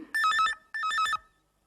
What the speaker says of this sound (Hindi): लो, फिर से फोन की घंटी बजी।